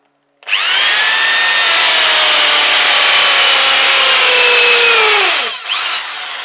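A power drill bores holes through a wooden footboard in one long, loud, steady whine lasting about five seconds, pitch sagging as the bit bites, then cutting off before a brief second spin-up.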